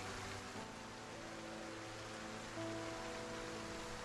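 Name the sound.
rain in the video game Project Zomboid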